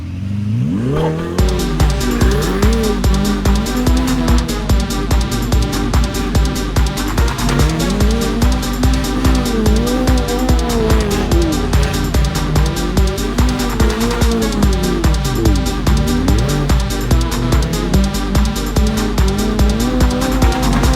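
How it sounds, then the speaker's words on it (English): A Ferrari 488 GTB sports car engine runs throughout, a loud droning growl rising and falling as it accelerates and shifts, with no talking. "This is the Ferrari 488 GTB."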